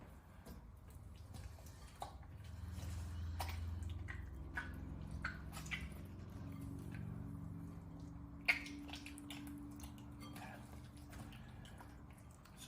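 Raw octopus is kneaded and squeezed by hand, producing quiet, close wet squelches and drips that continue unevenly throughout.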